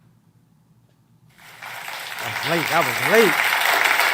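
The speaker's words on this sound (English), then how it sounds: "Let's give another round of applause for Deacon Show." An audience at an IUIC Philadelphia gathering breaks into applause after a short quiet pause, and the clapping swells and holds strong while a voice speaks over it.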